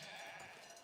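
Sheep bleating at the sheep farms in the video game Foundation: a brief, faint, wavering bleat that lasts under a second with no talk over it.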